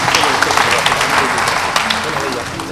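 Audience applause at a spelling bee final in Benin, a dense steady wash of many hands clapping that fills the hall, with some voices mixed in.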